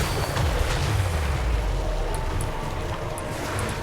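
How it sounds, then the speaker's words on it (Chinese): Artillery cannon fire in a Total War: Warhammer 3 battle between Chaos Dwarfs and Lizardmen: a heavy, continuous low rumble of booms and blasts that stays loud throughout, with no voices. "剛好像又聽到一發大炮的聲音了"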